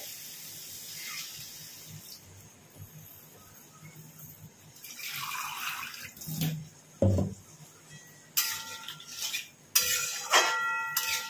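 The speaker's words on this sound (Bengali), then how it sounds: "এবার মিক্সির বাটি ধুয়ে জল দেব আর নর্মাল জল দেব" Water runs from a tap to rinse a mixer grinder jar in a home kitchen, with faint intermittent splashing followed by sharper bursts of pouring and clinking of the jar against dishes, fairly close.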